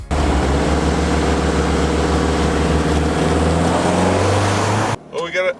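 A Subaru Outback and another crossover wagon accelerate in a drag race, with a loud steady engine drone and rising engine tone heard from inside the car that cuts off abruptly near the end, where a voice speaks.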